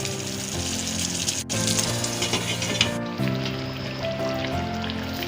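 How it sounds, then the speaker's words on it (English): Chicken kalimirch cooking in a covered pan over a low flame, a steady soft sizzle and bubbling hiss running continuously throughout, fairly close, with no talking. "now you cover the pan and let it cook for around 15 minutes in low flame"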